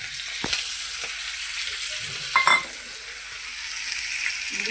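Leafy greens hiss and sizzle steadily as they fry in a hot pan, with a few sharp clinks and stirring scrapes of a utensil against the pan. No voices are heard.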